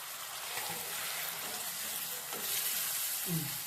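Chopped tomatoes added to oil with ginger garlic paste sizzle gently in a pan on low heat for a broccoli curry, a soft, close frying hiss with a few stirring clatters.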